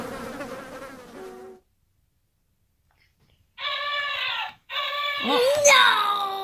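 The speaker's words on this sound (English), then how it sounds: "No, it's the fly." An animal sound toy plays a buzzing fly, bright harmonic bursts that start and stop in two short stretches after a pause, with a voice and an adult talking before and over it.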